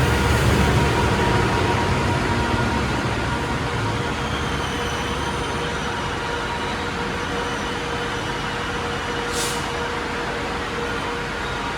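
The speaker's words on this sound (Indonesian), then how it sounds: "di sebelah ada suara kereta komuter lain" A continuous loud rumble of a commuter train rolling past close by at a station, steady throughout with a brief squeal late on.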